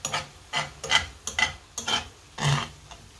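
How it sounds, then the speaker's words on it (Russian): Salted mushrooms stirred in a pan with a utensil, making a series of close, scraping swishes in an uneven rhythm of about six strokes, with faint sizzling from the pan beneath. "Перемешиваем."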